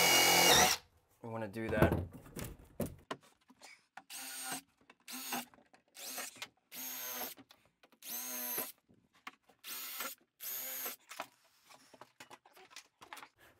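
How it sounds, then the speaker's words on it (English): Power drill boring pilot holes into a shower pan flange: a series of short, loud bursts of drilling close by, separated by pauses, with brief talk at the start. "we're just going to drill a couple pilot holes into our flange"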